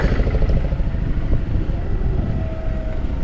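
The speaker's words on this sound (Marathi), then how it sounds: "ट्रॅफिक ऑन पीक म्हणजे भयंकर असं ट्रॅफिक लागलं आहे" A motorcycle riding through heavy peak-hour traffic on the road from Mumbai to Alibag: a steady, loud low engine drone mixed with rushing wind noise, with no clear break.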